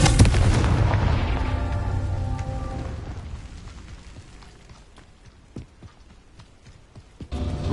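A Confringo blasting spell goes off in Hogwarts Legacy with one loud, close explosion that rumbles and fades over several seconds, followed by scattered debris pops and a fresh blast at the very end.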